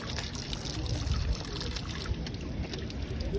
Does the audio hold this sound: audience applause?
no